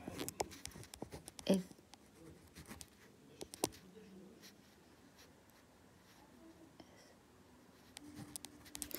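Numbers being written on a board in a third-grade multiplication lesson, faint scratchy strokes in short bursts with pauses, soft and close in a quiet room.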